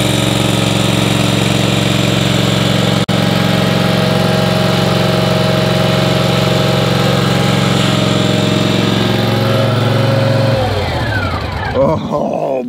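A commercial lawn mower engine runs loud and steady close by for about ten seconds, then winds down and cuts out near the end.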